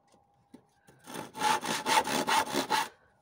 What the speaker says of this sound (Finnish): nyt mä sahan lautoja tohon mun ojaan.